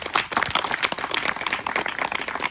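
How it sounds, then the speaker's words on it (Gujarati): A crowd at a village Patidar community picnic near Mehsana claps for donors, a dense, steady patter of many hands at moderate distance lasting the whole moment, with faint voices mixed in. "આવા સરસ દાતા એક વખત તાળીઓ મારીએ"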